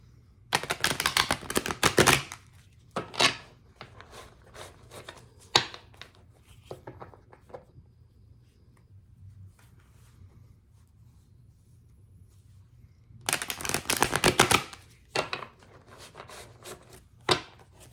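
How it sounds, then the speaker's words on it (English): A deck of tarot cards riffles in two rapid, crackling bursts at the start and near the end, with scattered taps and flicks in between and quiet gaps. "Let me shuffle these cards"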